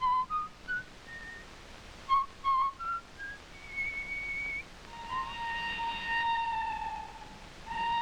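Someone whistles a Viennese waltz in clear, sustained notes, faint against a quiet background, the tune rising and gliding in a swaying rhythm.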